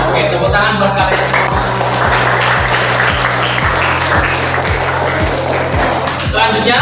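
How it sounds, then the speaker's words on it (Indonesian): Clapping from a class of trainees during a training session, steady dense applause running throughout over a rhythmic low tapping beat, with voices faintly underneath. "tepuk tangan buat kalian"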